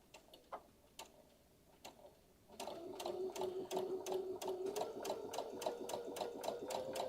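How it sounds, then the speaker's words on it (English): After a few faint ticks, a sewing machine runs a steady quarter-inch seam, encasing a raw fabric edge. Its close, continuous whir carries a sharp, regular ticking from the needle. "So now we're sewing that at a 1/4 of an inch, and we're just encasing that raw edge on the inside"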